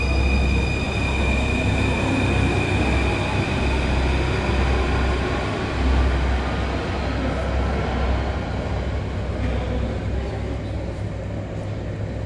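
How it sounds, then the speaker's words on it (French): Metro train pulling away from a station, a loud steady rumble of wheels and motor with a high whining tone, the roar slowly easing as it departs. "Juste après le départ du métro"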